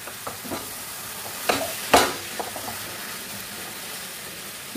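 Spoon stirring grated carrot cooked with date palm jaggery in a pan, a soft low sizzle broken by a few sharp scraping strokes, close and otherwise quiet.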